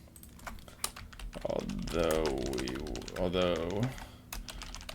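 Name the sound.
typing a trading note on a computer keyboard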